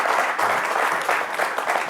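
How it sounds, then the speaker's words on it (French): A TV talk-show studio audience gives guest Jean-Michel Onnin a dense, steady round of applause, with clapping close and continuous throughout the short burst. "T'es fort applaudi là, les gars."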